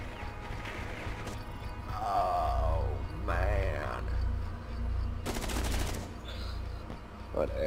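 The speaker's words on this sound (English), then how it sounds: "I heard two bullets go off right at his head" Gunfire rattles in a Rainbow Six Siege match: several short bursts and shots crack at moderate distance amid game effects, with a loud broadband blast near the middle and players talking over the action.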